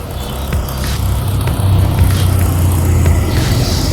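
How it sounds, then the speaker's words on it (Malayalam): A vintage Lambretta Polo two-stroke scooter rides along with a loud, close, continuous buzzing engine drone that rises slightly partway through, mixed with rushing wind and road noise. "നമുക്ക് ഈ ലാംബി ഒന്ന് ഓടിച്ച് നോക്കാം കേട്ടോ."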